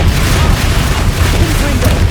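Confringo blasting spell in the Hogwarts Legacy video game, a continuous heavy booming roar with rumbling low end, loud and close, as voices sound faintly under it.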